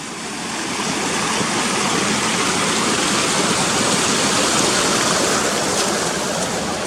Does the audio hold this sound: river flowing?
yes